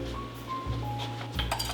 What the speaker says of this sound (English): I'm going to grab a whisk